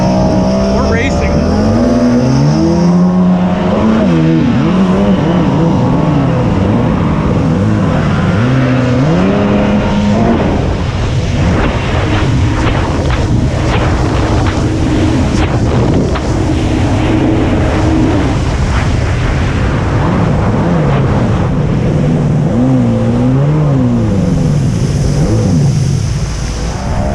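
An aluminum jet boat fitted with a jetski engine races across water, its engine droning loud and steady with rising and falling pitch sweeps as it accelerates and turns, alongside continuous water rush and talk.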